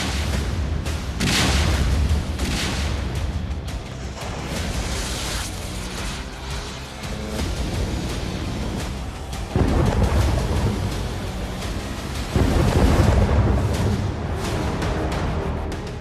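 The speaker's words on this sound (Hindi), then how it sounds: "यूरोप की दहलीज इस तरह धमाकों से दहल रही है" Heavy booms and rumbling blasts from the Russia-Ukraine war roll through continuously, loud and reverberant, with several stronger bursts rising above a dense low roar.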